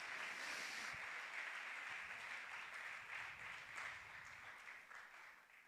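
A church congregation claps and applauds continuously at a distance, a dense, steady wash of hand claps that gradually fades slightly toward the end.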